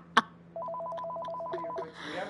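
A telephone rings in the video game Accounting+, a rapid warbling trill that pulses steadily for over a second after a sharp click, then gives way to a brief rustle.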